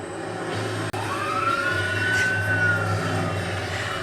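A fire engine siren sweeps up and falls in a long wail, heard at moderate distance over a steady street rumble of traffic, alone without talk.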